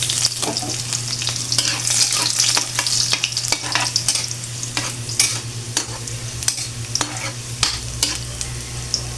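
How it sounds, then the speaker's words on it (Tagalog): Garlic sizzles in a hot pan, a loud continuous frying hiss broken by frequent stirring clatters from a utensil close by, with no speech. "mainit na yung kawali natin. At ilagay natin yung bawang guys."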